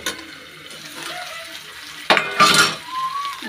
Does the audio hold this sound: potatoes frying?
yes